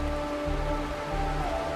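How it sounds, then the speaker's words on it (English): Rain in the video game Honkai: Star Rail, a soft, steady patter of drops on a surface over a low sustained musical drone, faint and even throughout. "This is the sound of rain."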